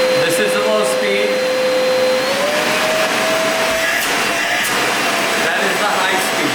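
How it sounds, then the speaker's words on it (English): A Prolux tool box vacuum runs steadily on its low speed setting, a loud, constant whirring motor hum with a faint whine that rises slightly partway through, with no talk over it. "So let's go ahead and turn it on. This is the low speed."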